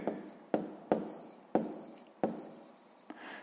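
Pen writing by hand on paper while working a sixth-grade maths exercise, a run of close scratchy strokes broken by five or six sharp taps as the pen lands, with no talk.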